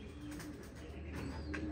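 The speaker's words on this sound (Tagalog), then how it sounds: "Oh yan, umuwi na yung mga ibon nyo." Homing pigeons arriving back at their loft after a race from Lopez, Quezon: soft cooing and faint bird calls over a steady low outdoor hum, fairly quiet and without talk.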